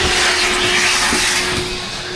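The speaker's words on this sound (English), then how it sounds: "So it's kind of nice to go through and just get it vacuumed out." A vacuum cleaner runs steadily inside the interior of a junk car being turned into a race car, a close, continuous whooshing drone with a constant motor whine that eases slightly toward the end.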